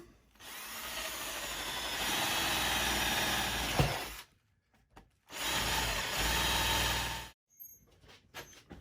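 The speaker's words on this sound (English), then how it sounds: "I'm going to drill lots of holes with a 1/2 inch drill bit" A power drill with a 1/2 inch bit grinds through pallet wood in two long bursts, each several seconds, loud and close, with a short pause between them.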